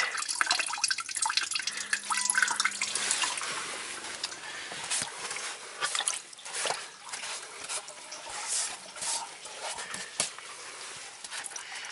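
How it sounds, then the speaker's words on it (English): Water drains through a drain hole in a Subaru Forester into a bucket, giving a steady trickle and dripping splashes that run throughout. "Let's get more water towards the drain. We'll see if our bucket fills up all the way."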